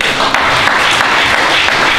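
A church congregation applauds God in a steady, dense wash of clapping that fills the hall without pause.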